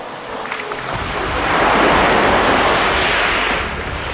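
Adriatic Sea surf washes onto a pebbly beach, a loud broad rush that swells and recedes once, with wind buffeting the microphone and no talk.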